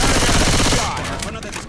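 Rapid automatic gunfire from the multiplayer shooter game Dystopia, a dense loud burst that thins out after the first second into scattered shots and background game noise.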